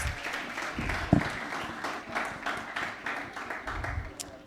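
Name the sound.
audience applause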